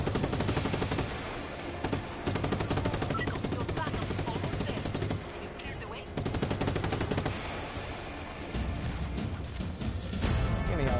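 Shotgun and other gunfire in the video game Just Cause 3, set in an underground military base: dense, continuous loud blasts and rapid shots over a busy game soundscape, with a voice talking over it.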